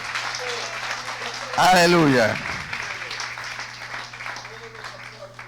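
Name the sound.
church congregation applauding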